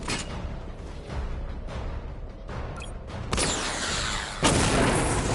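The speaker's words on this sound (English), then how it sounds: "Missile barrage level 1 ready." A missile barrage fires in a video game as a series of booming blasts and whooshing bursts, growing denser and louder toward the end, with no voices.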